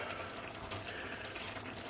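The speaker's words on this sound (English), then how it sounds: "So we're going to add 3/4 of a cup of water to this." Water pours steadily into a pan of enchilada sauce, a faint, even wash of liquid with no talk over it.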